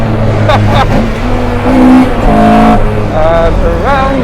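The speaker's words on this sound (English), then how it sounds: "We are drifting now." A modified car slides sideways with wailing tyre squeal and a loud engine revving close by, while voices talk over the noise.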